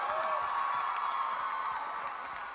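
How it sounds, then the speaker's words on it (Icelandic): Crowd at a school singing contest clapping and cheering for the contestants, a dense sustained wash of applause with whoops, fairly distant and easing slightly toward the end. "Ég var að gefa öllum keppendum gott klapp"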